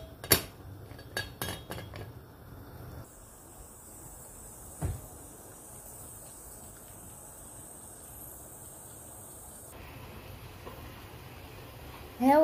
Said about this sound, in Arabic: Et maintenant, on ferme la cocotte.